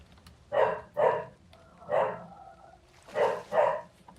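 A dog gives five sharp barks at a cat outside, spaced in pairs with a single bark between, fairly close and loud with no talk over them.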